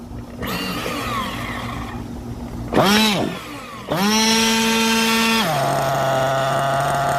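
A small nitro engine fires on the first one-handed pull without throttle: a short rising pull-start burst, then a loud, steady high-pitched buzzing idle close by, dropping slightly in pitch near the end.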